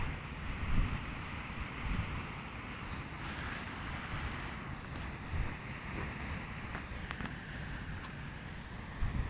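Wind and ocean waves on the Tasmanian coast make a steady, broad roar with deep low rumble, gusty wind buffeting the microphone and a few brief surges over the continuous surf.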